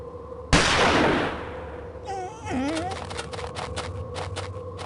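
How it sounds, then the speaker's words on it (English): A single loud gunshot in the Agatha Christie: Murder on the Orient Express PC game, a sharp blast that decays over about a second, followed by quieter ambient game sounds with a brief tonal cry. "The gunshot seems to have frightened him off."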